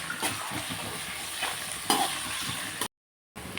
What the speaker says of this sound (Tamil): இப்போ பீன்ஸு, கேரட்டு, பட்டாணி போட்டு நல்லா ஃப்ரை பண்ணிக்கலாம்.